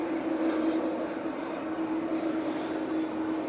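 An airliner taxis back to its stand, a steady distant engine drone with a constant low tonal hum, unbroken and moderately loud for the whole short stretch.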